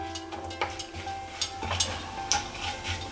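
Onions shallow-fry in a pan with bay leaf, red chillies and cinnamon, giving a quiet crackling sizzle broken by a few light stirring scrapes and ticks.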